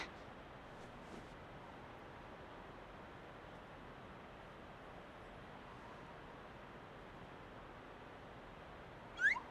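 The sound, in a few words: cat meowing in the video game Kingdom Hearts Birth by Sleep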